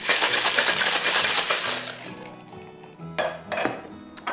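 A raspberry cocktail is shaken hard in a metal cocktail shaker: about two seconds of dense rattling ice, then a few separate clinks and knocks as the shaker settles.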